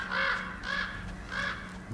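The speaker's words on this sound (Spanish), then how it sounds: "Más cuervos." Crows in God of War Ragnarok give three harsh, rasping caws spaced about half a second apart, close and fairly loud over a low steady ambient hum.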